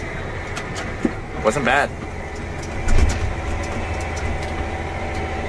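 A John Deere 560RT utility vehicle driving in first gear, its engine a low steady rumble with a few bumps and clunks along the way, while someone speaks briefly over it.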